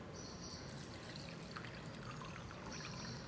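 A quarter cup of water is poured into sugar in a bowl while preparing yeast for garlic bread, a soft steady trickling pour lasting a few seconds, quiet and close, with faint high background tones.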